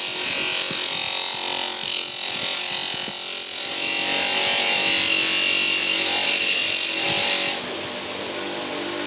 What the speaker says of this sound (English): But now we can really test the polishing wheel,